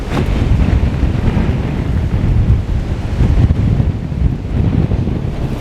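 Strong, steady wind buffets the microphone at a winter wild camp beside a tent, a constant low roar that rises and falls slightly, with no voices.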